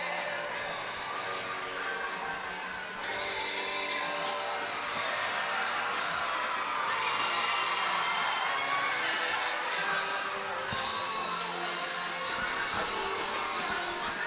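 A crowd cheers and roars steadily at a women's university hockey championship final in Fredericton, a sustained, even wall of arena noise with voices blended in.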